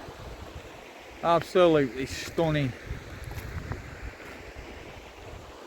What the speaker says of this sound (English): River running down there.